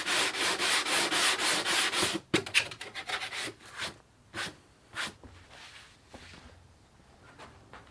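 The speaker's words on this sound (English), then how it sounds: "use the sand spongy thingamabobber and clean up all those sharp edges" A sanding sponge rubs along the sharp cut edges of a cushion in rapid, even back-and-forth strokes, close and loud at first, then giving way to scattered softer scrapes and handling sounds.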